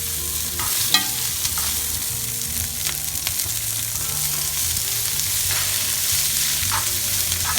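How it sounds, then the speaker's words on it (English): Peppers fry in a hot oiled pan as a utensil stirs them, a steady close sizzle broken by repeated scraping stir strokes and light clanks throughout, with no talking. "Put my little bit oil on the pan. The pan is hot. That's my peppers."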